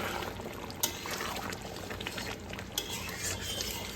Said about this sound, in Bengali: আর এখানে এই দেখুন চিকেনটাও কষানো চলছে